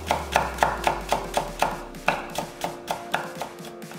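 A knife cuts a carrot into thin strips on a board for a Korean seaweed dish, with steady rhythmic chops, about a dozen crisp close strikes at an even pace.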